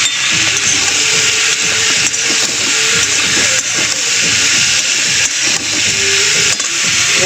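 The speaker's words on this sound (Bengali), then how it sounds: "তারপরে সবজিটা একটু ভালো করে ভেজে নিই।" Vegetables sizzle loudly and steadily in a hot frying pan, a dense continuous hiss with occasional small clicks and scrapes, and no talking.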